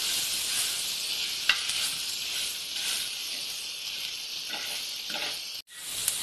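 Pav bhaji masala and amchur powder being stirred and mixed in a pan for masala pav, a steady close sizzling hiss with faint scraping of the spoon, no talking.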